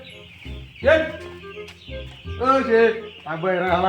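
Hens cluck and call in short bursts close by, overlapping with people talking.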